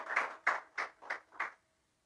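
Hand claps during a Sunday church service, five distinct, evenly spaced claps, fairly faint and slightly reverberant, then silence.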